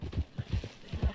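Horse hooves gallop in Red Dead Redemption 2 across a desert Wild West setting, a steady repeating beat of close, fairly loud thuds with a faint whinny.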